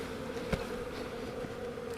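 Honey bees from a shipping package drone and buzz in a steady, humming swarm as they are shaken into a hive, with a couple of faint knocks breaking through the constant drone.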